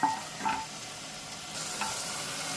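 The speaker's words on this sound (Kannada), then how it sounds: "ಮೆಂತ್ಯ ಸೊಪ್ಪು ಕೂಡ ಇದರಲ್ಲಿ ಚೆನ್ನಾಗಿ ಸ್ವಲ್ಪ ಎಣ್ಣೆಲೇ ಫ್ರೈ ಆಗಬೇಕು" Fenugreek leaves frying in a little oil for a moong dal, with soft steady sizzling, a few brief stirring scrapes and a slight rise in hiss partway through.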